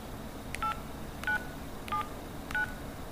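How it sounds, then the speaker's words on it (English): Four evenly spaced DTMF keypad beeps as a lock code is entered on an LG Venus phone, each a short clear tone heard alone over a steady low hiss, close and fairly quiet. "Now you have to enter phone lock code, which is the last 4 digits of your phone number."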